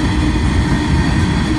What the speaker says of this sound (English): A lot of small tank cars.